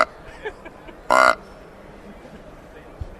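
One short, loud bleat from an electronic game caller imitating a doe deer in estrus, standing alone against a quiet background with faint small noises around it.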